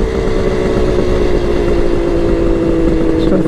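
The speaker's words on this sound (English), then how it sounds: "Bike started up okay. Fired up on the first kick after it'd been sitting a while" A Kawasaki KH500 H1 triple two-stroke motorcycle engine runs steadily and loudly close by after a first-kick start, holding an even drone with no pauses.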